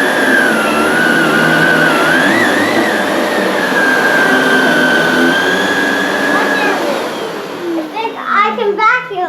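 A Shark Navigator Liftaway vacuum cleaner runs loud and steady with a constant whine and broad roar for most of the stretch, then shuts off near the end as a voice starts talking.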